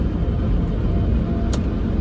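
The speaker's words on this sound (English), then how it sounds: "This car is still making a noise" Steady low rumble of a car engine and road noise from inside a moving vehicle, constant and fairly loud, with a brief faint click.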